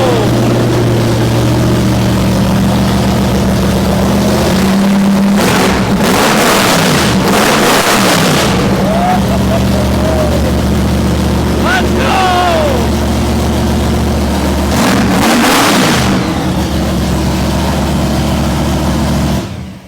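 A supercharged big block Chevy engine in a mud truck roars through loud, sustained idling with repeated hard revs that swell and fall back, running continuously close by as voices shout over it.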